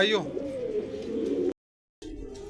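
Pigeons coo softly on a rooftop, a low murmuring that runs for about a second and a half, cuts to a brief silence, then resumes faintly.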